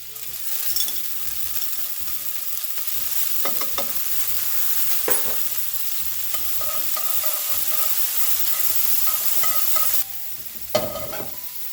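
Minced garlic sizzles steadily in olive oil in a stovetop pan, with a continuous crackling hiss and a few sharp utensil clinks and scrapes along the way, close up and without talk.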